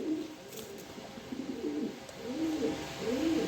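Domestic pigeons, a pair kept at home, coo softly in repeated low rolling calls over steady faint background hiss.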